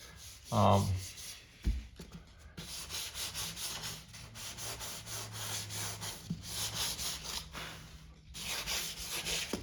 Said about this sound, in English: the nice thing about these sanding blocks, of course, is they get it pretty smooth